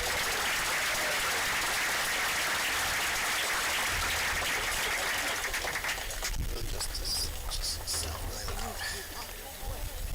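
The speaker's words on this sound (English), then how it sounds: "So another round of applause for Mason" Audience applause at a baseball senior night, with people talking over it, continuing for several seconds at moderate loudness.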